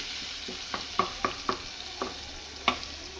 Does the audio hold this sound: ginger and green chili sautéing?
yes